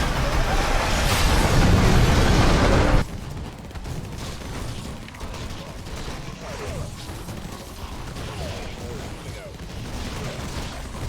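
Rockets launch and burst in the video game Infested Planet, a dense roar of explosions and gunfire for the first few seconds, then continuing quieter battle noise with scattered impacts.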